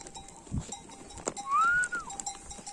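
One drawn-out sheep bleat rises and falls mid-clip, fairly close, over quiet mountain outdoor background noise with a soft thump before it.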